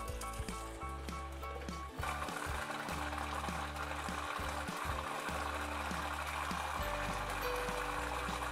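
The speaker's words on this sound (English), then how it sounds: "Put the pork in the pan flat and flip when one side is done." Thin pork slices sizzling in a pan for Japanese ginger pork shougayaki, a steady crackling fry that grows louder and denser after a couple of seconds, with a low hum underneath.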